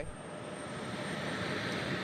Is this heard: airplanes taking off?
yes